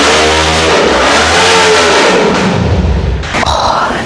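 A motorcycle engine revs hard and loud nearby, holding a rough, droning tone before the pitch shifts near the end, with a brief clattering noise.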